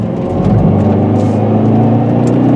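A 2019 Hyundai Veloster N turbo driving on curvy roads, with a loud, steady engine drone and whir heard from inside the car and a slight rise in pitch as it pulls.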